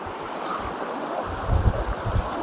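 Cold spring water at Bungan Bungan in Laserna, Nabas, Aklan, rushing as a steady close broadband wash, with louder surges near the end.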